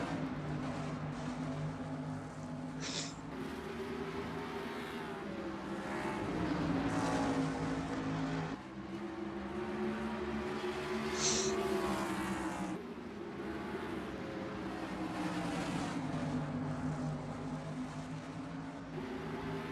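Race cars at speed on the short Bristol oval during a race with heavy lap traffic, a dense continuous engine roar that swells and fades as packs pass, loud and sustained throughout.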